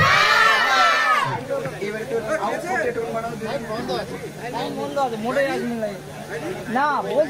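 Crowd at a Bengali religious naat gathering chanting takbir in loud, overlapping voices, a sustained roar of many people with rising and falling shouted calls throughout.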